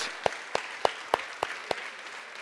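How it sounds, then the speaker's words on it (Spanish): A church congregation claps in unison, giving six sharp, evenly spaced claps in a steady beat inside a reverberant hall. "Le damos un aplauso al Señor esta mañana."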